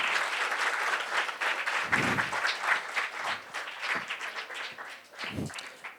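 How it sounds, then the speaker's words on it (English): An audience at a career seminar gives a big round of applause for the team, dense and steady clapping that holds throughout and tapers slightly near the end. "Just give big round of applause for the whole team."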